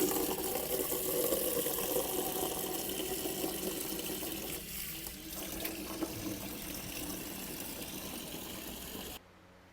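Tap water runs steadily while clothes are washed by hand in a village home, a broad splashing hiss that fades slightly before cutting off near the end, with no talking.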